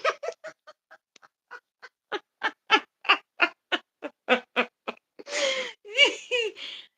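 A woman imitates a crow with a long run of short, rhythmic cawing calls, close and fairly loud, ending in a few drawn-out, laughing squawks.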